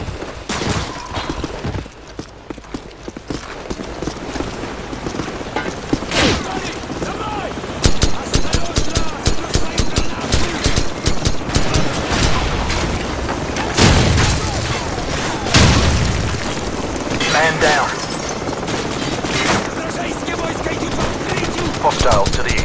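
Sustained gunfire from a Call of Duty 4: Modern Warfare battle, with dense bursts of automatic weapons, repeated shots and occasional heavy booms running continuously throughout, loud and close under a steady wash of combat noise.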